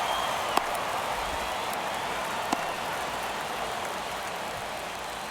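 Steady hiss of heavy rain pouring over a ballpark in MLB The Show 23, a constant wash of noise with a couple of faint clicks, no voices.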